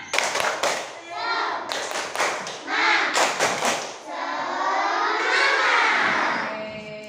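A classroom of children doing a rhythmic spirit clap, sharp patterned bursts of hand claps and taps alternating with group chanting, close and lively, followed by a sustained chorus of young voices.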